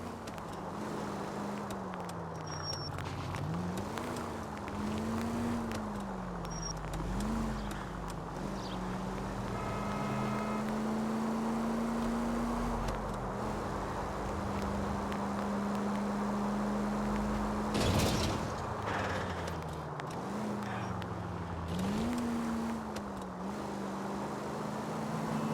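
A car driving through city streets in L.A. Noire, a steady engine drone rising and falling as it shifts and accelerates, with a brief louder swell near the end.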